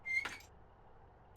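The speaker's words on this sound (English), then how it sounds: "Squeaky seat." A seat in a train cab in the Train Sim World 5 game gives one short, high squeak, then near silence follows.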